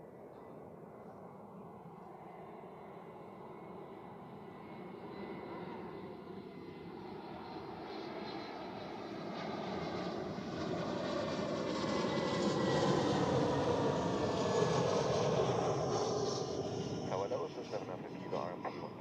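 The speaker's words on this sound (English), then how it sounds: "And another butter smooth touchdown." An EasyJet airliner lands on runway 14 at Zurich Airport, its engine roar swelling from a distant rumble to a loud, close drone. Faint voices are heard under the noise.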